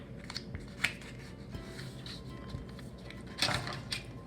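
Scissors snipping through green paper folded in half, a few crisp clicks and rustles while cutting down the middle, close and fairly quiet with no talk.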